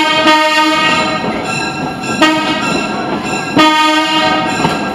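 A narrow gauge train rolls past with steady rumbling and periodic sharp clacks of the wheels, and a horn-like tonal drone sustained throughout.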